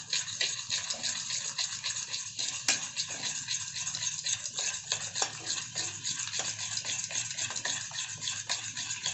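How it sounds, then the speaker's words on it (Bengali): Sugar and oil are whisked together in a bowl for a sponge cake, giving a fast, continuous rhythmic scraping and tapping up close at moderate level, with no talking. "এবারে আমি এই চিনি আর তেলটা একটু ভালো করে"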